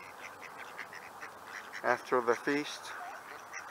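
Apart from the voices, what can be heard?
duck quacking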